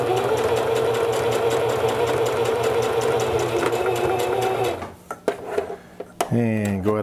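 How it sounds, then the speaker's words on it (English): A sewing machine stitches steadily along a long seam of vest fabric, loud and close, then stops with a few clicks and a brief voice before the motor whirs again. "we're going to sew down one long side and across the end there"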